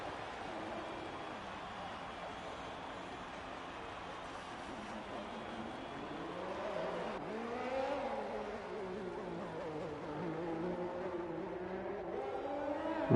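A Formula 1 race car in F1 2021 spins a donut at the Mexico track, its engine whirring and rising and falling in pitch. The engine sound is moderately loud and steady, with no break.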